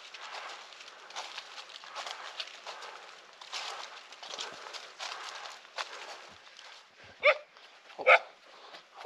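A dog in a foggy mountain forest near Sandakpur on the India–Nepal border gives two sharp, loud barks close by, following a stretch of rustling footsteps and movement.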